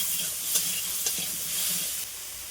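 Mango chutney frying in a pan with salt and turmeric, stirred steadily so a close, continuous sizzle runs throughout, broken by a few soft scrapes of the spoon.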